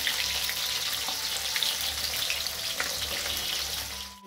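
Rohu fish pieces frying in hot oil for a red curry, giving a steady, close hiss and crackle of sizzling that runs the whole time with no talking.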